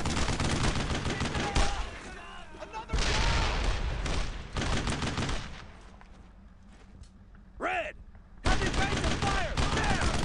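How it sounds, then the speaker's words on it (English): Dense rifle and machine-gun fire from a World War II shooter set around Vierville. The loud bursts come in clusters and drop away to a quieter lull, then the shooting picks up again. "There's a lot of firepower being thrown in that general direction."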